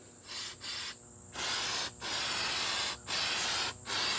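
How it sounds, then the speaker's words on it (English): Aerosol spray paint can hissing in bursts while pumpkins are painted, several long sprays with brief pauses between them, loud and close with no talking. "Is this how you spray paint?"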